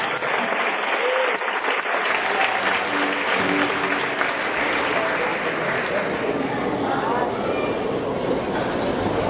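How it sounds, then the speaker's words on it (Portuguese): A Pentecostal church congregation in Ribeirão Preto applauds steadily, a dense, continuous wash of many hands clapping that fills the room at a loud, even level, with voices mixed in. "Pode aplaudir e glorificar o nome do Senhor Jesus."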